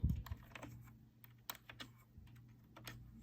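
A knitting machine turns strips of sponge into pumpkin-shaped scrubbies, producing a close run of irregular mechanical clicks and clacks with no talking.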